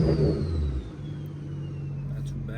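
Turbocharged car engine, fitted with a single turbo, revving loudly up close and then settling into a steady, throbbing idle, with a faint whine above it.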